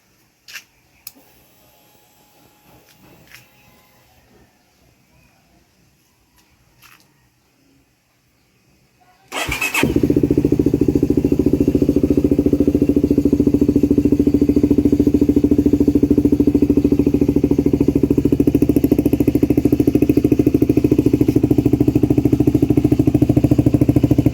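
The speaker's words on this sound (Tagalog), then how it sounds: "kailangan daw munang i-start yung motor para mag-circulate yung lumang langis" A CFMOTO 300SR motorcycle sits quiet at first with a few faint clicks, then its engine fires abruptly and settles into a steady, loud idle that continues unbroken to warm up before an oil change.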